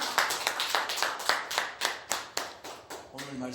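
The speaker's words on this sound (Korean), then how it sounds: "우리 박수합시다." A church congregation claps in a steady rhythm, about a dozen sharp even beats in a row, fairly close, with a voice briefly at the end.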